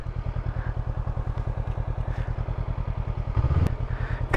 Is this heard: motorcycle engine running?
yes